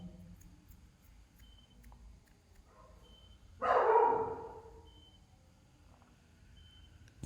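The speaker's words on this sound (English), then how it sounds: "The dog is barking right now." A dog barks once loudly and nearby in a single short burst, with quiet indoor background noise before and after.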